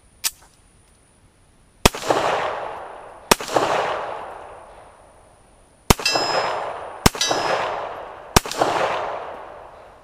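Pistol fired several times through a cheap Triple K magazine, five or six loud sharp reports spaced a second or two apart, each ringing with a metallic clang that decays slowly, with no talking.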